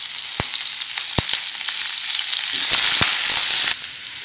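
Green chillies and curry leaves fry in hot oil for prawn 65, giving a loud, close sizzle with sharp pops and crackles that swells into a brief burst of spattering.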